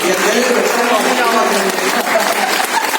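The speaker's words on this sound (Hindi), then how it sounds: "जोरदार तालियां, एक बार जोरदार तालियां। देखो तालियां कितना आवाज आ रहा है।" Loud, dense clapping from an audience at a motivational speech fills the moment, steady and continuous without a break.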